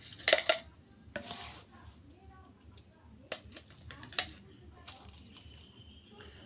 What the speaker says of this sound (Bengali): এই মিক্সিতে এখন আমি এই যে চালটা দিয়ে দিব